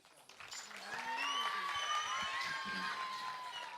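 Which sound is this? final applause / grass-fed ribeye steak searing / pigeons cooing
final applause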